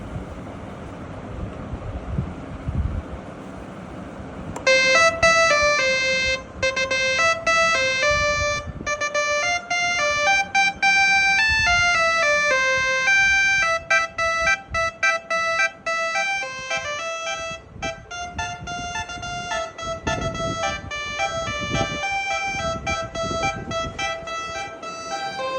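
Jingle Bells melody played on a six-trumpet air horn testing module for vehicles, bright electronic horn-like tones stepping through the tune, loud and continuous after a quiet start, with gusty wind noise underneath.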